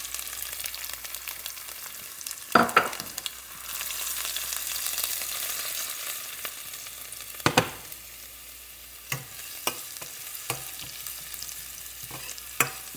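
Cumin, asafoetida and garlic sizzle quietly in hot oil with a soft, continuous hiss, broken by a few sharp clatters and taps of a spoon against the pan.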